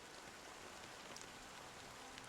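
Steady rain falls in Honkai Star Rail, a faint, even hiss of drops with no other sounds.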